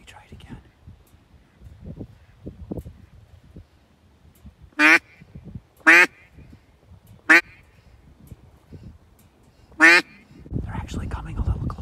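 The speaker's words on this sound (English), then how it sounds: "See the ducks over there? Those are wild mallards." Wild mallard ducks outdoors give four loud, separate quacks spaced about a second or more apart, heard over quiet whispering voices and faint background rustle.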